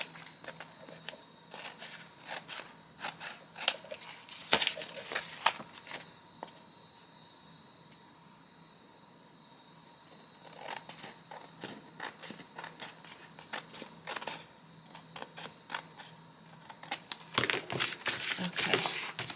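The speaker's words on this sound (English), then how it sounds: "I'm just going to cut off the excess" Scissors snip away excess paper from a freshly glued junk journal page, with a few quiet bursts of sharp crisp cuts and paper crinkling, close by, with a pause between them.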